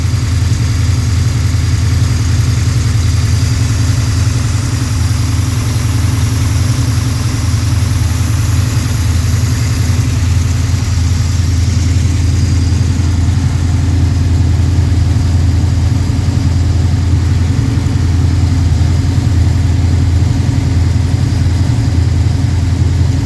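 A Pontiac 428 V8 with three two-barrel carburetors rumbles loudly at a fast idle, deep and steady throughout with no voices or rev changes.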